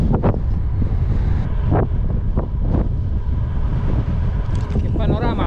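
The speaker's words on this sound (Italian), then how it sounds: "ho il vento contrario" Headwind buffets the microphone during a bicycle ride from Catania to Palermo, a loud, continuous low rumble with gusty surges and a brief higher whistle near the end.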